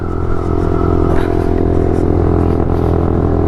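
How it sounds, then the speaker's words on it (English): A 125cc motorcycle engine revs close by, with a loud, steady buzzing drone and a few brief throttle surges, and no one speaking over it. "Please do me the honors of revving."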